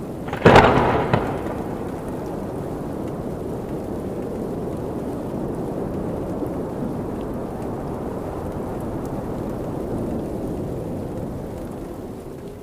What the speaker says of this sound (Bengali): হঠাৎ চারিদিক অন্ধকার করে আসলো আর খুব জোরে বাতাস বইতে শুরু করলো।